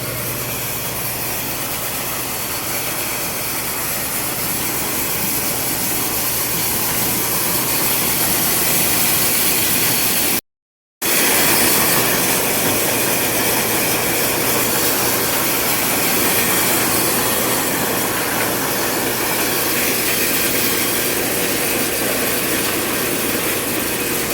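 A maize thresher with lift drones and rattles steadily, with a dense grinding roar that cuts out briefly before resuming at full strength.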